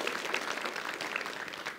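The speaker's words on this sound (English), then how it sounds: "perhaps we should give him a round of applause." An audience at a lecture applauds, a short, soft, steady patter of many hands clapping together from across the hall.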